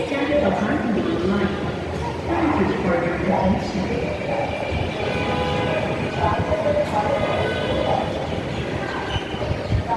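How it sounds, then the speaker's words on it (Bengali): A metro train in Dhaka, heading toward Diabari in Uttara, rumbles steadily throughout with rail and carriage noise, while passengers talk over it nearby. "মেট্রো রেলে করে এখন দিয়াবাড়ি আসছি"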